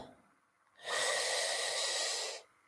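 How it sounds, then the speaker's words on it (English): A single long, deep breath taken during guided meditation: a soft airy rush lasting about a second and a half, close to the microphone, with quiet before and after. "Take another deep breath"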